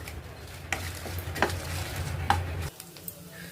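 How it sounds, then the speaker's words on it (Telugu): Coconut pieces roast with cumin and chilies in a pan for coconut chutney, a soft sizzle under several sharp spatula taps and scrapes before the sound drops away near the end. "కొబ్బరి ముక్కలు వేసుకుంటున్నాను. వేయించుకోవాలండి."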